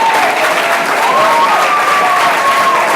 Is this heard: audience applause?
yes